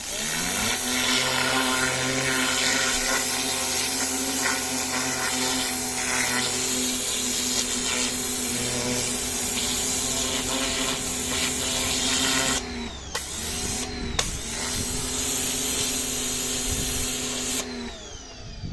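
An Aldi Ferrex 2.4 kW pressure washer with a turbo nozzle blasts weeds on a patio, giving a loud, steady roaring hiss with a motor hum, broken by a few short pauses and restarts near the end.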